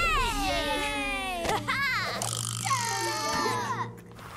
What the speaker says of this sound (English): The letters were cheering and hurrying to make words.